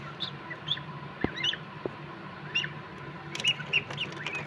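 Faint, high chirps and peeps from newly hatched goslings in an incubator come in short scattered bursts over a quiet hum, with a couple of soft knocks.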